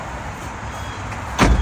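A flip-up back seat in a 1965 Chevy Corvair Monza is moved, ending in one short, solid thunk near the end against faint steady background hiss.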